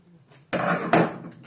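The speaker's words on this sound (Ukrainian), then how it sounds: "впираю в підшипник і сюди луплю молотком" A hammer strikes a washing machine bearing on an LG washer during bearing replacement, two sharp metallic blows close together, loud and near, each ringing briefly.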